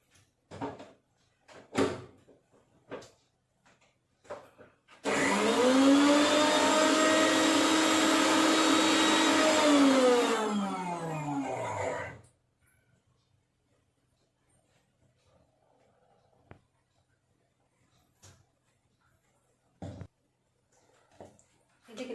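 A mixer grinder whirs loudly for about seven seconds, grinding apple and beetroot for juice, its motor pitch rising then falling, framed by scattered clicks and knocks of a lid and jar.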